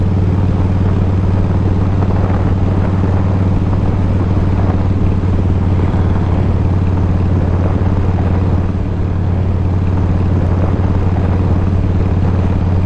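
A Harley-Davidson Fat Boy motorcycle engine held at full throttle gives a loud, continuous, even roar with a deep low rumble for the whole stretch, with no talking over it.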